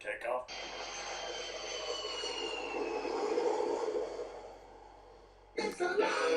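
An airplane takes off with a steady engine roar that swells and holds for several seconds before easing away, framed by brief bursts of voices at the start and end.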